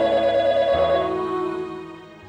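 A telephone rings in a home, a loud sustained electronic ringing tone that holds steady and then fades, heard alone without talk.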